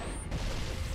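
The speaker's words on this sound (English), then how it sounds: "he's throwing a grenade at me" A grenade explosion in the video game Halo CE, a single dense blast that fills the second and holds as a loud rumbling roar.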